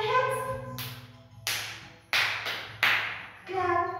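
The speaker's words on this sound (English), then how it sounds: "Clap, clap, clap your hands." Hands clap along to a children's counting and clapping song, with four sharp, close claps spaced unevenly between stretches of sung or spoken voice and a low musical backing.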